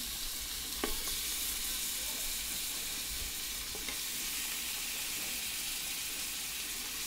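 Lamb searing in a hot pan gives a continuous moderate sizzle and hiss, with a couple of brief clinks as the pieces go in.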